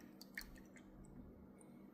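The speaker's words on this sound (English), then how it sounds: "we'll just clean off our brush here" A paintbrush rinsed in a container of water during watercolor painting, giving a few soft wet squishes and faint drips close by, very quiet over a low background hum.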